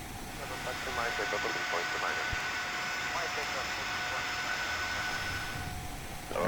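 Boeing 737 jet engines idle while taxiing in the X-Plane flight simulator, a steady droning whine with tonal hums running throughout, with a person talking over it.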